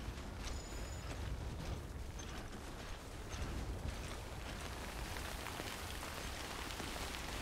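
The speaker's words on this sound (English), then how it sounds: "This is just regular rain." Ordinary rain falling steadily outdoors, a soft continuous patter with scattered sharper drops, faint and unbroken throughout.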